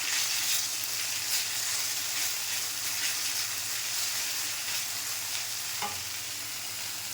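A bay leaf goes into hot oil with browned onion, garlic and cumin for a Bengali kajli fish curry, giving a steady close frying sizzle throughout, with a brief sharper crackle near the end.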